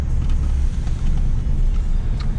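Citroen DS3 with an upgraded turbo engine driving, a steady loud low engine rumble with road noise throughout, no voices.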